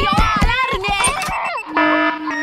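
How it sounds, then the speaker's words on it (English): An alarm sounds as a loud electronic tone, warbling and holding steady pitches, with speech over the earlier part. "Don't forget the alarm!"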